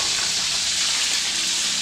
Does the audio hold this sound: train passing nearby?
no